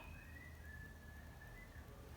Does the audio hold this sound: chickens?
no